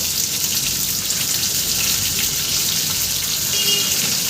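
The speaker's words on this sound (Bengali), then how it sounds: "আমি এর মধ্যে সামান্য একটু লবণ আর একটু হলুদ দিয়ে ভেজে নেব" Potatoes frying in oil with salt and turmeric, part of a mutton curry preparation, give a steady, even sizzle that holds at the same level throughout, close and alone with no talking.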